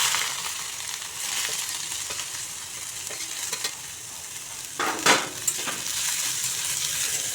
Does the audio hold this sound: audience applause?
no